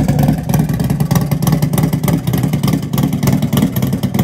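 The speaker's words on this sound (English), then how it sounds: "It sounds like a race bike." A race motorcycle engine with roughly $26,000 in the motor revs loudly and close, a steady throaty roar with rapid pulsing throttle blips and mechanical clatter throughout.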